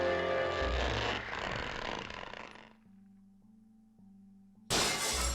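An enemy bursts apart in The Legend of Zelda: The Wind Waker with a loud, crashing shatter that fades into a quiet pulsing electronic tone before a sharp burst of game sound returns.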